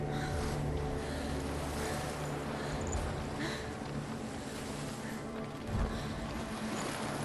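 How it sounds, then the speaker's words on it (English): Ocean waves in the video game Hellblade: Senua's Sacrifice wash and surge in a steady, breathy roar, with a couple of low thuds, fairly quiet and without voices. "the sound of those waves."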